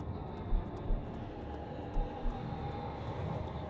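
A helicopter flying overhead outside an open window, a steady broadband rumble with a few dull low thumps, fairly distant and moderately loud, with no talking.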